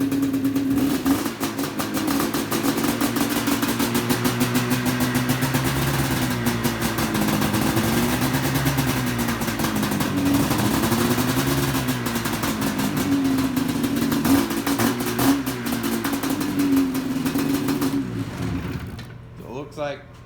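An XC 700 engine revs repeatedly until its clutch engages, rising and falling in pitch as the throttle is worked, loud and close for most of the clip before the engine winds down and cuts off near the end.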